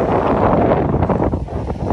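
Strong wind buffets the microphone at a Manila Bay beach during bad weather, a loud continuous roar with rough waves likely churning underneath, no voices heard.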